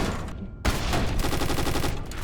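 A needle cannon fires in the People Playground sandbox game: a sharp onset followed by a rapid, steady volley of repeated mechanical shots that continue loudly to the end, with no talking.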